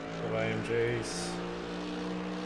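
AMG and V8 race cars compete in a six-hour race, their engine notes rising and stepping through shifting tones over a short, busy stretch with possible background voices.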